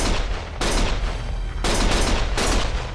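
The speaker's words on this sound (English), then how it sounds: "Stop shooting!" Rapid bursts of gunfire in the video game Lost Judgment, loud and close, coming in repeated volleys with short gaps between them.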